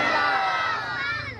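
A large crowd at a religious rally roars out slogans together in loud, massed shouting that swells and then eases slightly. No single speaker stands out.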